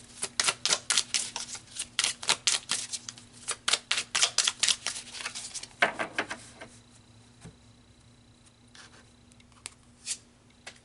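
Tarot cards riffle and snap in rapid, crisp bursts for several seconds, close and fairly loud, then taper into a few scattered soft flicks and taps in a quiet room.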